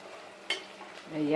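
Ginger garlic paste goes into a chickpea and gongura curry frying in a pan. A soft stirring scrape and gentle sizzle are heard, with a brief louder stir partway through, then the sizzle rises toward the end.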